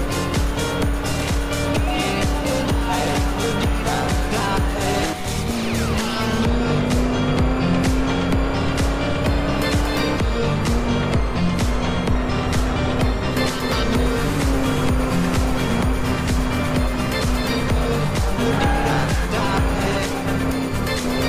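Cars race in the Crash Time 5 video game, with a continuous loud engine drone that rises and shifts in pitch as they accelerate, plus occasional tire and passing noises and no talking.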